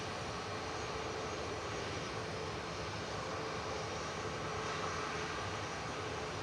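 Boeing 787 Dreamliner taxiing at Manchester Airport, a low, distant, steady engine hum with soft broadband hiss, unchanging and faint throughout.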